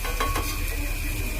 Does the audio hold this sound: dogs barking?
no